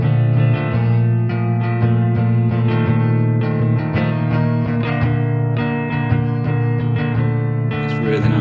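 Sustained electric guitar chords through a Joyo Space Verb reverb pedal ring out with lush reverb, notes blending into long washing tails, played continuously without talking.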